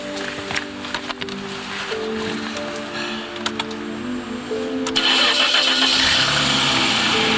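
A car parked outside an apartment block has its engine started with a few clicks and cranking sounds. The engine then catches and settles into a steady, close idle for the last couple of seconds.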